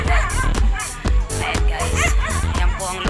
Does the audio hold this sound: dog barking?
yes